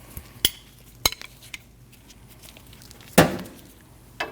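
A wrench and a breaker bar with a 22mm socket work a 21mm control-arm bolt free on a Nissan NV2500, giving a few sharp metallic clinks and one heavier clank.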